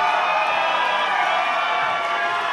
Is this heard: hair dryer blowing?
no